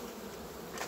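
Honey bees hum steadily at close range around the hive, a dense continuous buzz lasting under a second.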